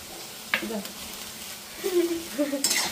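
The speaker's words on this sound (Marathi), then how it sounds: "आता थोडीशी मिरची भाजीला टाकीते" Ground green chili goes into frying vegetables in a pan, with a soft sizzle, a spoon scraping and stirring, and a couple of sharp clinks against the metal, while someone speaks nearby.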